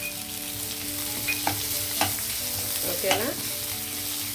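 Onion, carrot and ginger garlic paste fry in a pan for cauliflower biryani, sizzling steadily close up while a spoon scrapes and stirs a few times; a voice speaks briefly.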